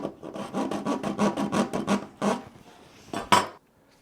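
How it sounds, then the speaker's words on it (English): A hacksaw cuts through the ridged metal-clad armor of an MC or BX electrical cable in quick rhythmic rasping strokes, close up, pausing briefly before a final few strokes. "you can hear I'm already getting through that ridge here of the metal clad"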